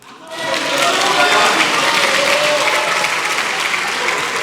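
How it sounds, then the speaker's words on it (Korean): Lawmakers in the National Assembly chamber burst into applause from their seats, rising quickly to a loud, dense, sustained wall of clapping with no one speaking over it. "국민의힘 의원석에서 박수갈채가 나오고 있습니다"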